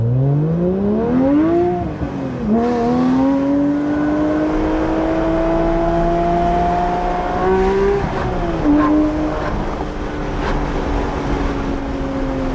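Porsche 992 GT3 Touring with a full Dundon titanium exhaust, loud and close, its engine note climbing through a rev sweep, dipping, then holding a steady sustained drone before easing down, no voices.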